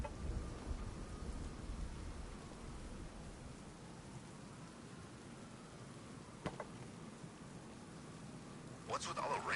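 Rain falls steadily in a Batman video game, a broad hiss with low rumbling thunder underneath and a few brief sharper cracks near the end, while a voice is faintly present.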